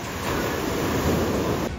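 Ocean waves break and wash continuously at Uluwatu beach in Bali, a loud, steady roar of surf with some wind buffeting, with no talking.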